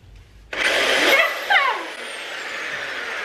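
A power drill bites into a pumpkin being carved, starting abruptly with a loud rising whir and a brief squealing surge before settling into a steadier grinding buzz, no talk over it.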